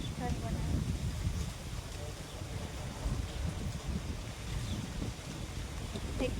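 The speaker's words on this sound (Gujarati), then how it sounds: "મસ્ત પવન આવે" Steady wind blows across an open spot near a house at the edge of a settlement, a continuous low rumbling rush with gusty swells that stays fairly loud throughout, with faint voices now and then underneath.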